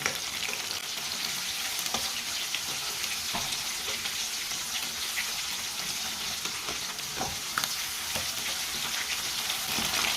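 Fish fries in a pan of hot oil, a steady close sizzle with scattered crackles and pops running on without pause and no one speaking.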